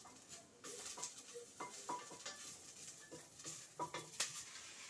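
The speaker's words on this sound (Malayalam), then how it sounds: "അപ്പോൾ ഞാൻ ഒന്ന് ഇളക്കി കൊടുക്കുന്നുണ്ട്." Mustard seeds and curry leaves are stirred in a hot pan, a spoon scraping and tapping in an uneven rhythm over a soft crackling sizzle, close and fairly quiet.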